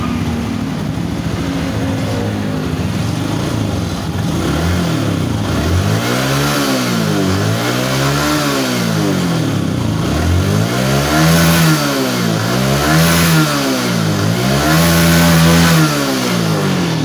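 A Yamaha Force FI / Jupiter Z1 motorcycle engine with a charging fault, loud and close, rising from idle into a series of repeated throttle revs that swell and fall in rhythmic waves, with no talking.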